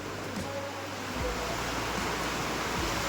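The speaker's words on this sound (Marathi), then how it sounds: "किती जोरात झाला बघा पाऊस अचानक अचानक भयानक आलेला पाऊस" The season's first heavy rain comes down suddenly in Ratnagiri, Konkan, as a dense, steady roar of downpour that swells slightly louder partway through and keeps going without a break.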